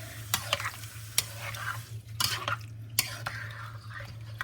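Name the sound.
stirring shrimp chowder in pot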